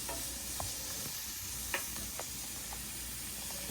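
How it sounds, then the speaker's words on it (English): Onions, shallots and aromatics stir-frying in a pan, a low steady sizzle with a few sharp scrapes and clinks of stirring, faint and without talk. "you start off by stir frying the onions, shallots, and any aromatics that you want"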